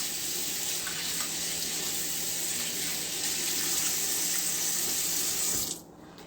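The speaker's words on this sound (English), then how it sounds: "I remember my hands are not washed and I need to wash my hands." Water runs steadily from a kitchen tap during handwashing, a loud, continuous hiss that fills the clip and cuts off abruptly near the end as the tap is shut.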